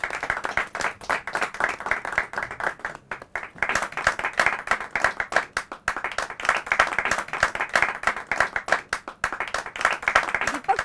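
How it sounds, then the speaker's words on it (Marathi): An award-show audience at an eco-friendly awards ceremony in Mumbai claps loudly and steadily for a winner, with dense hand claps running throughout and a few brief dips in intensity. "एकदा जोरदार टाळ्या"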